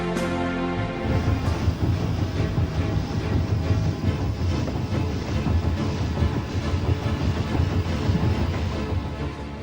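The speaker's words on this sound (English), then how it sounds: "A man is spending days in a train." A train runs along its rails in a continuous, moderately quiet rumble with faint rhythmic clatter, steady throughout with no voices.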